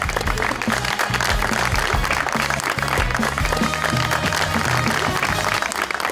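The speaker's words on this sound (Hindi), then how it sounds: "बहुत सारी तालियों में वेलकम कहते हैं हुमायमा मलिक साहिबा जी" A television studio audience applauds loudly and steadily to welcome actress Humaima Malick onto a talk show, a dense wash of clapping lasting the full stretch with faint music beneath.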